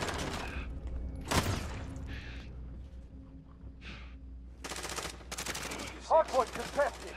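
Gunfire in a Modern Warfare multiplayer hardpoint match: bursts of rapid automatic fire and single shots, loud and close, with short pauses between volleys and a voice speaking at times.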